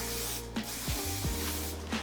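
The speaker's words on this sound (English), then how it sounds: "so I'm just gonna spray a little bit of spray." Hairspray sprayed onto hair during a textured mullet haircut, an aerosol hiss running nearly continuously and close, with short bursts and small pauses and soft rubbing sounds between.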